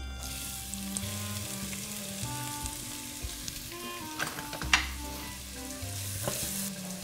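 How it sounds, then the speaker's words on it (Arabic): Onions hit hot olive oil and fry with a steady sizzle, joined by occasional clinks and scrapes of a utensil stirring in the pan, fairly quiet and close. "وببلش بقلي البصل فاول ما البصل طبعا بلمس الزيت السخن"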